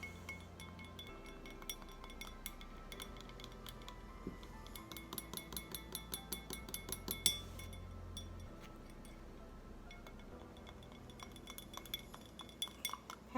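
Homemade beard oil is stirred in glass, giving light, fairly quiet clinks and taps that speed up into a brisk run of clicks midway and keep tinkling until the end.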